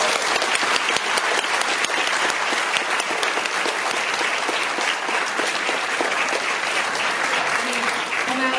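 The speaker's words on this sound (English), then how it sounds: "Let's give a big round of applause for our panelists." A convention crowd at San Diego Comic-Con applauds a Science of Star Wars panel with dense, continuous clapping that stays loud and steady throughout, with a faint murmur of voices mixed in.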